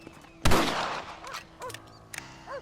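A single loud rifle shot cracks in Red Dead Redemption during target practice, followed by a decaying echo and a few fainter sharp clicks and pings, with no talking.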